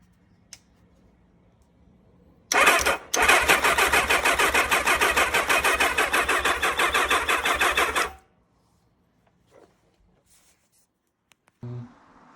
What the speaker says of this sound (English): it's getting some fuel, it'll fire, but it won't pick up